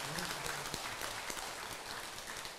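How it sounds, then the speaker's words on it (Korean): A crowd applauds at a Buddhist ceremony at the International Seon Center, producing a continuous wash of distant, even clapping without clear breaks. "감사의 큰 박수 다시 한번 부탁드립니다"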